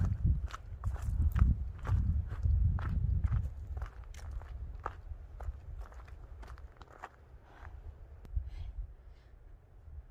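Footsteps walking down a trail toward a frozen waterfall in Creede, Colorado, steady crunching steps, close and fairly faint, with low wind rumble underneath.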